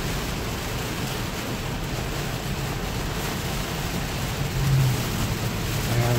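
Rain heard from inside a Tesla Model 3 on the road, a steady broad hiss of water and road noise that swells slightly near the end, with no talking.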